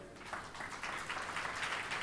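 Church congregation clapping loudly together, a dense sustained wash of applause that swells after a quiet opening and holds steady at a distance.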